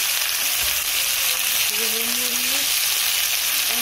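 Big fish in a sour curry fries and gets stirred in a pan, a loud steady hiss of sizzling oil that runs without a break, with a faint voice briefly in the background.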